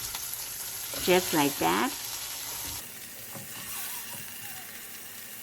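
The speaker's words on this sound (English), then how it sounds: "So we just fry a little bit, turn over this side, the other side" Meat frying in an Instant Pot as it is turned over, a steady close sizzle with a few utensil scrapes, and a brief spoken remark over it early on.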